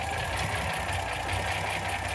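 A Ford P7A estate car's engine idles smoothly and quietly with a steady, even hum and faint mechanical ticking, alone without talk.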